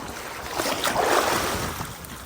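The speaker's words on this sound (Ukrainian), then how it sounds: "Це море, яке досить-досить тепле." Mediterranean sea waves washing onto a beach in Spain in mid-October, a soft rolling surge of surf that swells and fades, mixed with wind buffeting the microphone.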